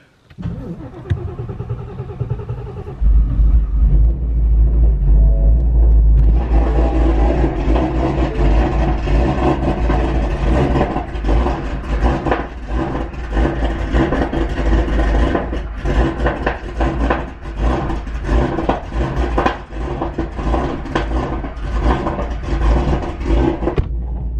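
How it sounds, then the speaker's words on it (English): A Ford Shelby engine cold-starts after a few seconds of quiet, then settles into a loud, steady, slightly rough idle that runs continuously close to the listener, with a faint voice early on. "it's a cold start, so it might be rough"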